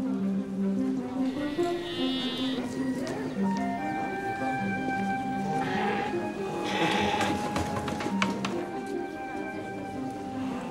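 Sheep bleating in a documentary scene on an early public anthrax vaccination trial with a flock of fifty sheep, several wavering calls rising over continuous background music and sound.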